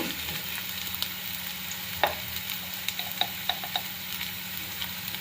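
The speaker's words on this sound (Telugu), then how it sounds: "ఇలా అల్లం వెల్లుల్లి పేస్ట్ బాగా వేగాక" Ginger garlic paste frying in a kadai for veg pulav, a steady close sizzle with a scattering of sharp spoon taps and scrapes against the pan.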